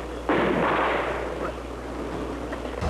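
A grenade goes off in a military training setting: one loud, sharp blast followed by a rumbling decay that fades over a couple of seconds, with no talk over it.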